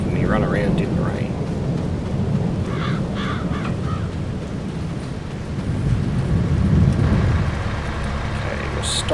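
Rain and thunder from a storm in Farming Simulator 22, a steady wash of rainfall with a low rumble that swells near the end, while a few short bird-like calls break through the middle.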